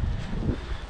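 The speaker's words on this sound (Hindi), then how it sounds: "हवा चल रही है।" Wind gusts at a lakeside viewpoint on the Netherlands–Belgium border, a brief low, rumbling buffet of air against the microphone with no talk.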